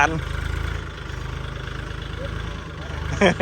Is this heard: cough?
no